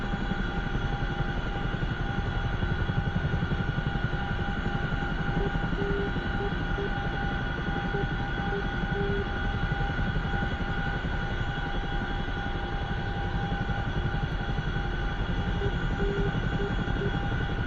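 A CH-47 Chinook helicopter in the DCS flight simulator: a steady, dense rotor and turbine drone with a constant tonal whine, loud and unbroken from start to finish with no talk.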